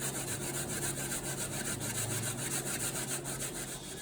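Sweet potato grated by hand on a grater, giving a steady, continuous rasping scrape that runs throughout at close range, with no talking.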